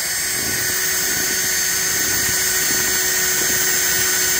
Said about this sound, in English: I'm drilling more holes in the boat.